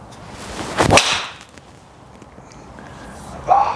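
A single sharp, solid crack of a PXG 0211 driver hitting a golf ball, not tinny, followed by a quiet outdoor lull.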